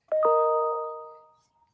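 A doorbell gives a single two-tone ding-dong, clear and close, its chime ringing out and fading away over about a second.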